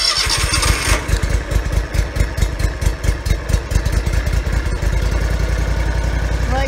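A Hustler X-ONE commercial zero turn lawn mower engine cranks with rapid rhythmic pulses for several seconds, then settles into a steady, loud running idle close by.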